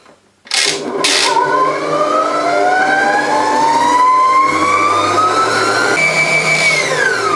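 An electric mixer whips homemade marshmallow with a loud, steady motor whine that climbs in pitch as it speeds up, running continuously without speech.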